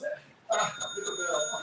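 A boxing match bell rings from about half a second in, its sustained metallic tone ringing out over a noisy crowd and commentary.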